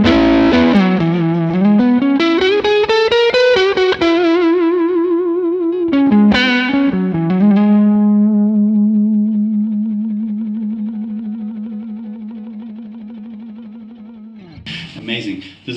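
A cryo-treated electric guitar played on the neck pickup through distortion and chorus effects, a descending run of notes followed by a long sustained note that slowly fades, with a final strum at the end.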